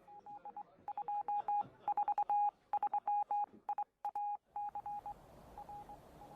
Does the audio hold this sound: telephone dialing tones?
yes